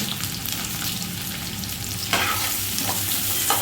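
Onion and capsicum sautéed in a hot pan for mushroom manchurian, a dense continuous sizzle with stirring scrapes, rising slightly louder partway through.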